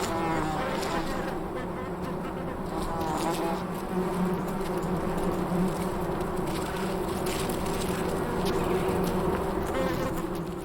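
Bees buzz among flowers in the Sonoran Desert, a dense, continuous droning hum that holds steady and close throughout.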